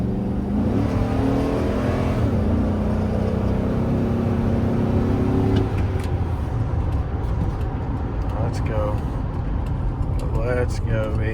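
A 2003 Chevy Silverado work truck with a 6.0L V8 drones loudly while being driven, its engine note rising under throttle, with someone talking over it.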